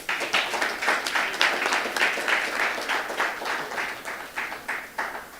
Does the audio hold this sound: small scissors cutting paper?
no